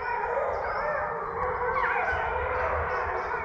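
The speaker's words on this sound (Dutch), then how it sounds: "zie je zo'n hele zwerm aan apen over de straat hier?" A troop of monkeys crossing a street gives drawn-out, wavering howls and yips that rise and fall over a steady background hum, moderately close.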